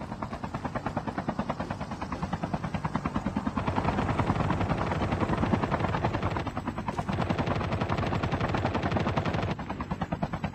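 A helicopter in Call of Duty Mobile, its rotor thumping steadily and loudly throughout, mixed with bursts of rapid machine-gun fire.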